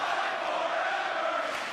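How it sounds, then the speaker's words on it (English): A wrestling crowd at a TLC championship match roars and chants continuously, a dense, steady wall of massed voices filling the arena with no single voice standing out. "The crowd chanting, "Fight forever.""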